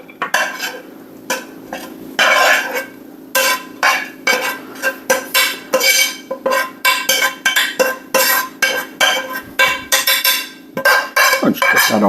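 Browned sausage is stirred in a pan for sausage and cream cheese biscuits: a close, loud run of rhythmic spoon scrapes and clinks against the pan, with quick repeated strokes over a faint background sizzle.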